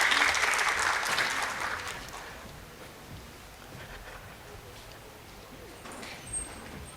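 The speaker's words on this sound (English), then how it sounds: "Audience, please welcome him with a roaring round of applause." Audience applause welcoming a speaker onto a stage, a loud wash of clapping at the start that fades over about two seconds into quiet room noise with faint voices.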